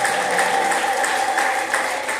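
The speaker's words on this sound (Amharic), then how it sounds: "ለጌታ ከፍ ያለ እልልታ ጭብጨባ" Congregation at a live Amharic church preaching service clapping steadily in a broad continuous wash, with a faint sustained high tone suggesting ululation mixed in, no speech.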